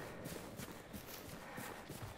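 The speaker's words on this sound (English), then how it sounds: "Skyrim horse." Horse hooves clip-clopping at a steady walking rhythm in the video game Generation Zero, moderately quiet and alone without talk.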